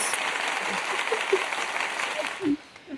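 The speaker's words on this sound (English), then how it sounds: "Oh my gosh, we need an applause." An audience gives a dense, steady round of applause that holds throughout, with a brief voice near the end.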